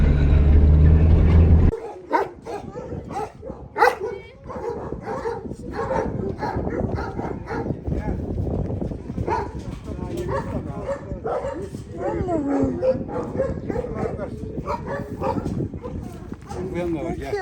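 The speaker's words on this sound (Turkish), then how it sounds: "Çoban, çoban köpeği çiftliğine geldik." Several shepherd dogs at a shepherd dog farm in Sivrihisar, Turkey bark and yip in overlapping bursts, close and lively, while people talk over them.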